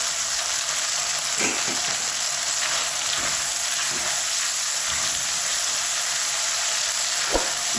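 Green onion frying in a masala tempering in a pan, a continuous dense sizzle at even loudness with a few soft stirring knocks scattered through it.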